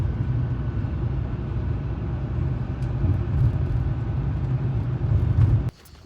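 A car drives along a road near the Cap Salou lighthouse, giving a steady low engine and road rumble from inside the vehicle that cuts off abruptly near the end.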